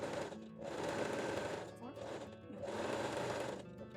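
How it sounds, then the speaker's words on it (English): A sewing machine sews a 3-step zigzag stitch along the side edges of a fabric thong, close and steady, in three runs separated by brief dips in sound. "I am using the 3-step zigzag stitch, so you will see the differences also in the stitches"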